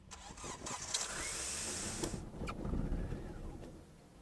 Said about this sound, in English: It starts and then it stalls.